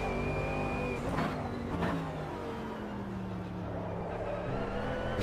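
A race car engine in a sim racing game drones steadily, its pitch climbing and falling through gear changes and revs. It stays loud and continuous throughout, with no talking.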